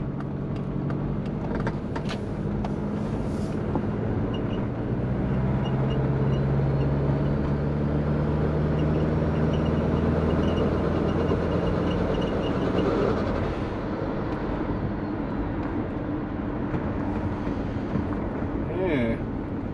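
A twin-turbo Subaru Forester engine drones and gradually rises in pitch as it pulls through second gear, with road rumble and a person talking over it.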